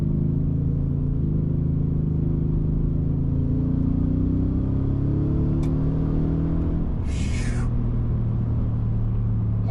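A 2023 Ford Raptor R pickup truck accelerating hard, a loud continuous engine roar with rising tone through shifts, heard from inside the cab, with a brief higher whine mid-run.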